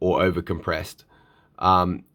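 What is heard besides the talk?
No everyday noises stand out.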